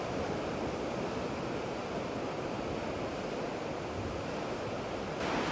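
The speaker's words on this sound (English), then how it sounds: "this sluice is completely open, and you can see it's raised up and allowing the water to flow through with such strength" Monsoon-swollen water of the Ping River in Chiang Mai, Thailand, rushes through a fully raised sluice gate as a constant, dense roar with no pauses or speech.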